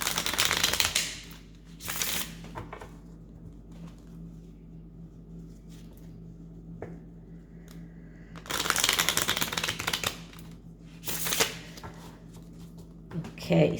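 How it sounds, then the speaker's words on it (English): A deck of cards being shuffled, with several loud crisp riffling bursts separated by quieter gaps and a person talking between them. "I'm going to shuffle the cards once again"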